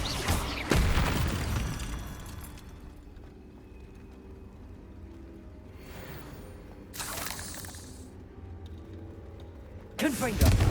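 Incendio fire spell cast in Hogwarts Legacy: a loud burst at the start, then a quieter stretch with a whooshing flare midway and another sharp burst at the end, with a voice calling out over it.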